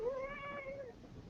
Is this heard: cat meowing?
yes